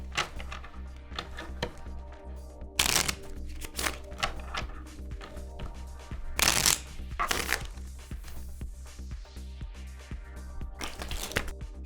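Crisp, papery riffling bursts of trading cards being shuffled, with a few louder flurries and small taps between them, close by and without voices.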